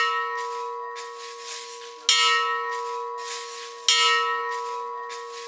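Church bells tolling in slow, regular strikes, each ringing out clearly and decaying into a sustained hum, with two louder strikes standing out amid the steady peal and no voices.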